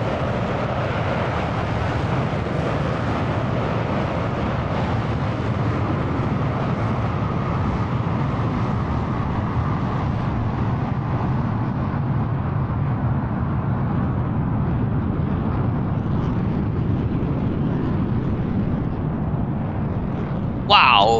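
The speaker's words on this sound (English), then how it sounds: "look this nice and beautiful takeoff" A Concorde jet from a flight game roars at full takeoff power on a short runway, a steady, loud, dense engine rumble that holds for the whole stretch before cutting off abruptly.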